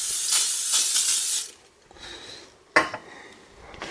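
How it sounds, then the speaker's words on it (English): Regular Pam cooking spray hisses steadily from a can into a pan for about a second and a half, then stops; after a pause, a short clatter of metal cookware follows nearby. "Okay, so just regular Pam cooking spray."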